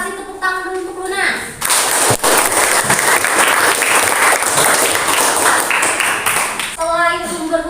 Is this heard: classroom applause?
yes